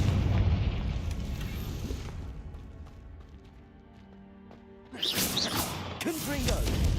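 Confringo blasting spell explosions in the Hogwarts Legacy video game, booming bursts and crashes through the first two seconds, a quieter lull, then a fresh loud blast around the five-second mark with a voice speaking over the action.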